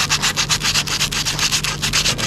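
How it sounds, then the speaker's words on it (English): Sandpaper is rubbed by hand along the cut end of a wooden towel rod, a loud, close scratchy rasp in steady back-and-forth strokes, about five per second, continuing without talk. "Now let's take sandpaper and let's smooth this out."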